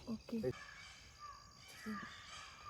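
Faint crows caw a few times in the distance at a jungle resort, a couple of short harsh calls early and another later, amid quiet outdoor ambience.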